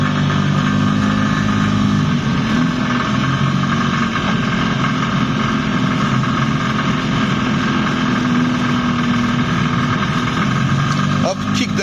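Engine of a Dué Initial microcar running steadily while driving toward a roundabout, a loud continuous drone filling the whole stretch with speech over it.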